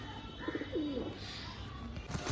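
Domestic pigeons of fancy breeds such as Naptha, Kalshila, Kaldan and Kalduma coo in short low phrases over a steady noisy background, with a brief cluster of coos near the start and a clatter toward the end.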